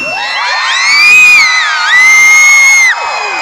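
A concert crowd of adults and children in an open-air amphitheater cheers and shouts in one voice, a loud, sustained whooping roar that swells, dips briefly, then holds before cutting off.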